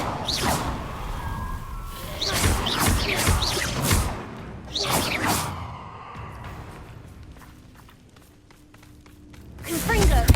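Confringo fire spells are cast repeatedly in Hogwarts Legacy, about four loud whooshing, crackling blasts separated by quieter stretches, with the last one near the end.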